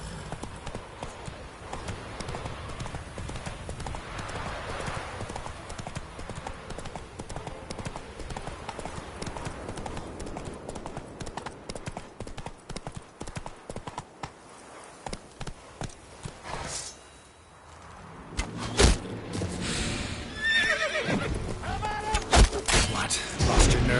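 A horse in The Witcher 3 trotting and galloping, with steady rhythmic hoof clip-clops close by that pause briefly before picking up again more loudly.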